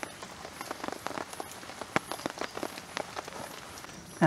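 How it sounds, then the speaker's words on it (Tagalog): Heavy rain falls at a solo overnight campsite, pattering densely and continuously on nearby surfaces, with scattered louder drops and taps. It stays fairly faint overall and steady throughout. "Muulan-ulan pa rin. Lakas."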